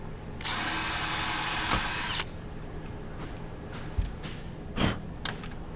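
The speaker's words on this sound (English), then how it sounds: "I always pre-drill just because it's fiberglass" A power drill whirs at high speed for about two seconds, drilling a pilot hole into a fiberglass window frame, followed by a few soft clicks and handling sounds.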